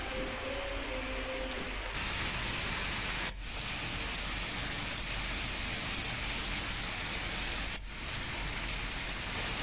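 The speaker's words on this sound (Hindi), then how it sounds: "उत्तराखंड के कई हिस्सों में बारिश का ये दौर जारी है।" Steady rain falls in Uttarakhand, a dense, even hiss of drops on surfaces that carries on without a break.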